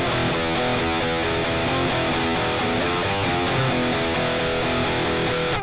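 An electric guitar plays a riff without palm muting, open ringing chugged notes in a steady driving rhythm, moderately loud with a drum beat beneath and no talking.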